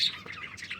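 Pet budgerigar parrots in a small home mini zoo, chirping and squawking in quick overlapping bursts close by, with no talking over them.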